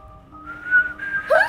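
A person whistles a short, clear rising tune, the tone wavering and climbing to a higher note at the end, close and alone.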